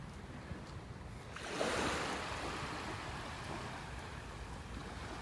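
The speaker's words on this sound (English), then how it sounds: "There's no better way to start your day than a walk on the beach." Surf and wind on a beach in North Naples, Florida: a steady hiss of breaking waves that swells into a broader wash partway through, then settles back to a constant roar.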